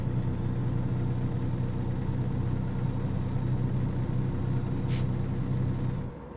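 A truck engine in the video game American Truck Simulator drones steadily with a low, even rumble and no change in pitch, cutting off abruptly near the end.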